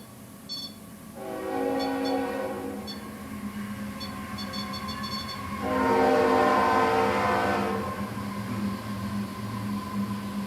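A train rumbles steadily nearby while its horn sounds in two long, loud blasts.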